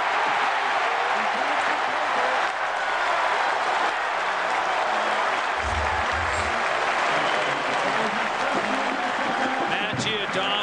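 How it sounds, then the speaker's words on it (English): A college football stadium crowd in Berkeley roars and applauds after an interception in a 2003 USC versus Cal game, a loud, sustained wall of cheering that fills the whole stretch and surges near the end. "Look at the crowd going crazy."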